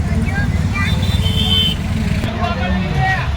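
An auto rickshaw rumbles along in heavy rain with a steady low engine drone and road noise, while voices talk faintly and some high squeaks sound in the background.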